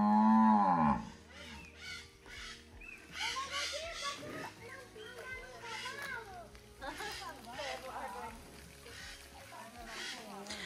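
Cows low on a farm, a loud close moo at the start followed by further calls, with children's voices and chatter underneath.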